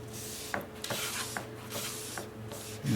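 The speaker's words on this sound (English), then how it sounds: "I'll take off a little more material and more aggressive sandpaper with 60 grit" Coarse 60 grit sandpaper rubbing across a wooden gun buttstock, a quiet, steady rasping scrape with a few sharper strokes and a louder pass near the end.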